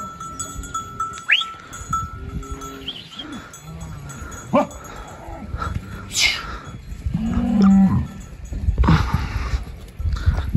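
Livestock on a highland pasture at Hertüs in the Artvin mountains call out in a string of drawn-out bleats and lows at varied distances, with scattered clanks and thin background noise between the calls.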